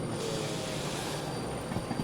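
Steady, continuous rumble and hiss of a locomotive running in the Derail Valley train game, heard up close with faint rail clatter and a few clanks near the end.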